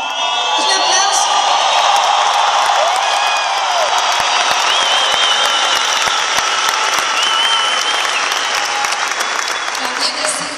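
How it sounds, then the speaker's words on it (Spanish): A large audience of thousands breaks into sustained applause mixed with cheering and whoops, a loud, continuous roar of clapping and shouting voices filling the hall. "un aplauso"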